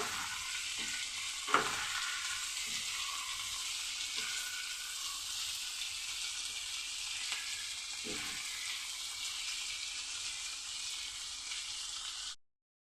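Vegetables with salt and turmeric powder stirred in a sizzling pan for a vegetarian snake gourd chachchori, a steady fry hiss broken by a few sharp scrapes of the spatula, close and continuous before stopping abruptly.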